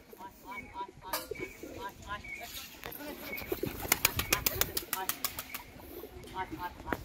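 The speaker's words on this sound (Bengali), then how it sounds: "দেখুন পায়রাটাকে, মানে ওই কোথা থেকে কোথায় চলে আসলো, এই চলে এসছে" A domestic loft pigeon flies in and lands, its wings flapping in bursts of rapid beats that grow denser toward the middle, alongside soft bird calls while someone talks throughout.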